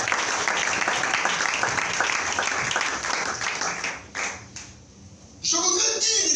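A church congregation breaks into dense applause that carries on for several seconds, fades briefly, then swells again near the end.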